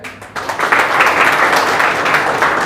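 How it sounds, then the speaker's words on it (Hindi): An audience claps to welcome a guest at an indoor event. The clapping starts suddenly and stays loud and steady until the end. "मैं चाहता हूं आप लोग सब एक बार तालियों के साथ इनका स्वागत करें"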